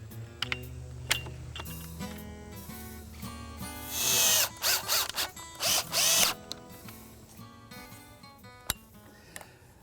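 A power drill drives a screw to fix a magnetic latch mechanism on a pool safety gate, several short loud whirring bursts near the middle, preceded and followed by quieter handling clicks and ratcheting knocks close by.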